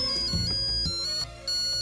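A mobile phone ringtone plays alone as a short bright electronic melody with a brief dip near the end, fairly quiet in a film scene.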